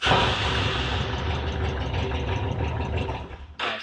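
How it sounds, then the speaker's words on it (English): Honda VTX motorcycle engine cranking on a weak, failing battery, a steady close churning drone that stops abruptly near the end. "So I'm going to crank the bike."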